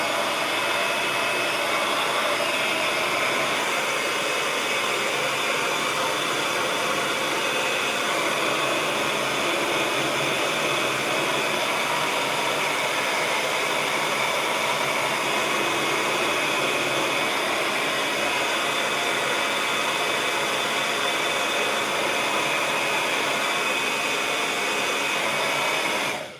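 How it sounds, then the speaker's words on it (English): A dryer blowing steadily on a painted canvas, a loud, continuous rushing whoosh that holds without a break close to the listener, no talk. "Then I'm gonna take the dryer and do the same thing."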